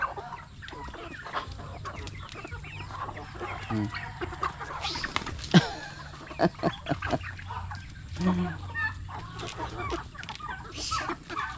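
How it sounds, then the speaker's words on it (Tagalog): Chickens cluck and murmur throughout a busy outdoor farmyard, with scattered sharp clucks and low ambient noise; no clear talking. "Sinasama-sama ko si Kali para masanay magpakain sa mga manok."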